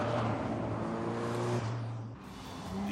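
An Alfa Romeo's engine in The Grand Tour racing game revs and drones, a steady pitched tone that climbs then drops off sharply as it lifts, before picking back up at the end.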